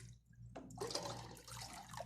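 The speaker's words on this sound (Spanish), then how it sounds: "Voy a ponerle agua suficiente a que los huevos se tapen." Tap water runs into a cooking pot on the stove to cover eggs for boiling, a soft steady splashing gush that starts after a brief pause over a low electrical hum and keeps going to the end.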